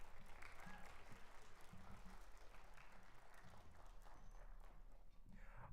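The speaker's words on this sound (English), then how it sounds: "Let's give both of those performances one more round of applause." Audience applause at a high school and junior high percussion concert, a steady broad wash of clapping that runs evenly throughout with a low rumble beneath and no pauses.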